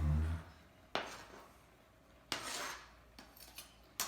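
The back of a knife scraping chopped onions across a cutting board, a few quiet, separate scrapes and taps, close, with faint room hum between them.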